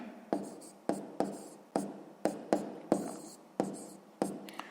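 A pen writes numbers on paper during a sixth-grade multiplication exercise: about nine short scratchy strokes, each starting sharply and fading, close and quiet, no voices.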